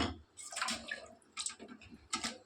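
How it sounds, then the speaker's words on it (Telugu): Drumstick (moringa) pods being washed in a bowl of water before frying: a few close sloshing splashes in short bursts with quiet gaps between them. "ఫస్ట్ మునక్కాయలను ఈ విధంగా నీళ్ళల్లో వేసుకొని కడుక్కోవాలి"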